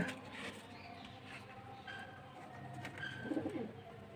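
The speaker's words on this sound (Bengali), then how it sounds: "এই ঘরেও পায়রা আছে" Pigeons coo softly inside a loft room, faint low murmuring calls with light rustling, growing slightly louder near the end in a quiet indoor space with no talk.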